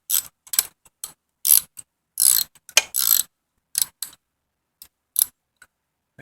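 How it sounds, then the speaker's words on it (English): Close ratchet wrench clicks in quick, uneven bursts separated by silences while bolts come off a locked-up Honda XR/CRF 100 engine during a top-end teardown. "I think my ratchet's about to die."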